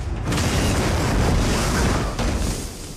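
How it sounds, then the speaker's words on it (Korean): A film explosion blasts open a school bathroom door amid intense heat, a loud sustained roaring boom that fills the scene for about two seconds before easing off, with no voices. "갑작스런 폭발에 날아가 버린 선생님"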